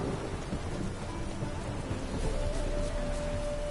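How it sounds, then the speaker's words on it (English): Steady thunderstorm ambience from The Witcher video game: continuous heavy rain with deep rolling thunder rumbling throughout, loud and unbroken, with no voices. "A storm, damn it."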